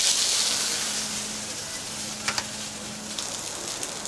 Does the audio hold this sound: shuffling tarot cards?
no